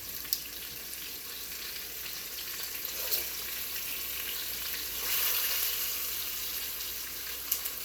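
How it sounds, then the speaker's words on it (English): Floured beef sauteing quickly in a hot pan gives a steady, soft, close sizzle throughout, with a few faint clinks and a brief louder hiss near the middle. "you want to saute it really quick."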